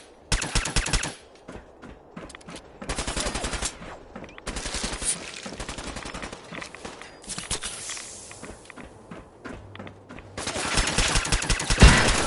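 Video game gunfire in Fallout 4's Nuka World sounds as loud, rapid automatic bursts that come in several long volleys, with running footsteps and clattering effects between them and no talking.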